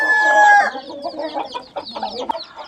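Small serama rooster and hens clucking and calling in a busy run, overlapping bird voices filling the whole stretch with a louder crowing-like call at the start.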